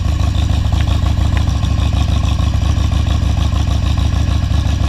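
A Harley-Davidson motorcycle engine idles while warming up, a loud, steady, close low rumble with an even pulsing beat throughout and no speech.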